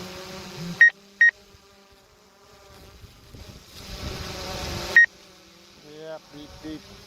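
A DJI Mavic 2 Zoom drone sounds sharp warning beeps in windy conditions, two quick tones early and another a few seconds later, over a faint propeller buzz, with someone talking.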